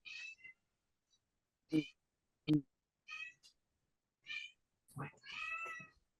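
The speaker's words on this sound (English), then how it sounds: "That is Muerte, which is like the sister of Boris, which is my cat" A house cat meows several times in short, separate calls, close and fairly quiet, with brief gaps of silence between them.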